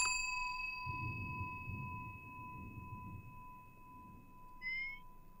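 Bell rung in a horror video game: a bright metallic strike with a long ringing tone that decays slowly, then a second, shorter chime near the end, with faint low rumble underneath.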